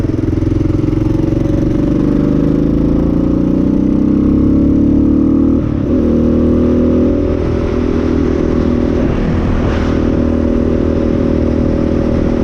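A Kawasaki KLX 650 motorcycle cruises along a ring road. Its engine drones steadily and loudly with wind rush, and the pitch dips and swells a couple of times as the rider shifts and accelerates.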